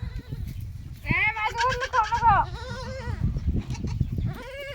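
Young goats tied up on a farm bleat repeatedly, several wavering cries close by in quick succession, while people chatter in the background.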